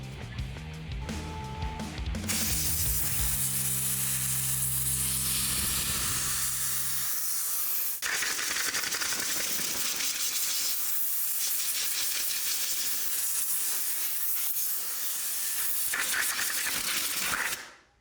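Compressed air hisses steadily and loudly while blowing sanding dust off a scuffed high-mileage Chevrolet Camaro body, a continuous blast lasting most of the stretch after brief clattering at the start.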